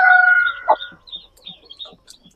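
An angry hen tending her chicks gives a loud, close, drawn-out squawk followed by a few short, scattered clucks and soft calls.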